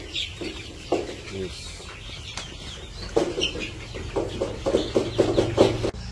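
Village chickens being fed cluck in quick, repeated bursts close by, growing busier toward the end, with a person speaking at times over a low background hum.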